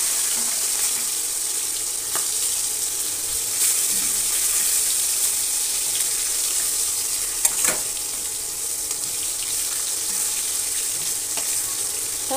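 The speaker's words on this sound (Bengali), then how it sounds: "এদিকে মাছগুলো ভাজা হোক" Fish pieces frying in a pan, giving a steady, moderately loud hiss of oil with a few soft pops and clinks, continuous throughout with no voices.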